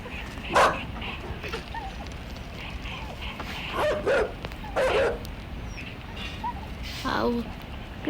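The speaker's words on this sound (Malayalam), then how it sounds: "അവിടെ നായുണ്ട്" A dog barking in a video game, a few short yips and barks spread across the stretch, mixed with someone talking excitedly over the game sounds.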